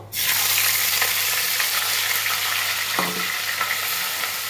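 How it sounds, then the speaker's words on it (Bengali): Whole garam masala and bay leaf sizzling in hot oil, a loud steady crackling hiss that starts suddenly and carries on with occasional pops and faint stirring clinks. "ওই তেলের মধ্যেই আমি এখানে গোটা গরম মশলা, তেজপাতাটা আমি ফোড়ন দিয়ে দেবো।"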